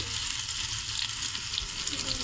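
Thin eggplant fries in hot oil in a wok with a loud, steady crackling sizzle that stays dense and unbroken throughout.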